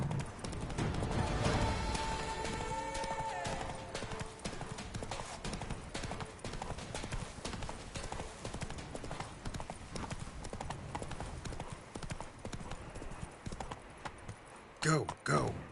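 A horse gallops at full charge in Witcher 3: Wild Hunt during a tourney, rapid rhythmic hoofbeats running throughout over a busy game soundtrack with speech mixed in.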